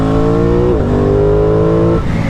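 2023 Aprilia Tuono 660 Factory motorcycle engine revving loud and close on a track, a steady high-pitched drone that dips briefly, climbs again, then drops off near the end.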